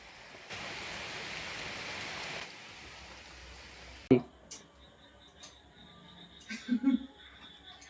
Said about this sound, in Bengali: এই যে দেখো কি পরিমাণে বৃষ্টি এসেছে, যেমন বৃষ্টি হচ্ছে তেমন বিদ্যুৎ চমকাচ্ছে